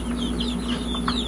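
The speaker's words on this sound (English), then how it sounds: "we have a couple of Leghorn roosters." Chickens and Leghorn roosters clucking and calling in a backyard flock, several short bird calls over a steady low hum, moderately close.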